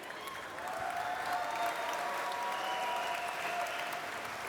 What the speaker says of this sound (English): Big applause for you, Tyrael.